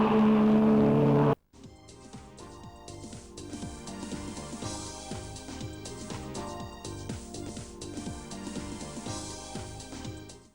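Vintage 1500cc sports cars racing at Mallory Park circuit near the hairpin bend, a dense buzzing of several engines droning and revving together at moderate distance, continuous and fluctuating after an abrupt start, with no talk.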